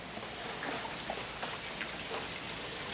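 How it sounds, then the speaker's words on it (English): Steady rain patters across old Santa Fe with a broad hiss and scattered drop hits, no voices, moderately loud and continuous. "it's raining."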